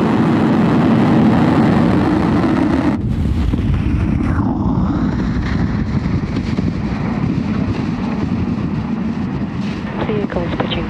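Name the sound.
Falcon rocket lifting off, engines at full power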